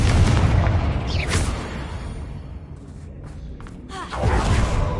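Confringo blasting spell explosions in Hogwarts Legacy, heavy booming thuds at the start and again near the end with a sharp crack between, set in a loud game fight.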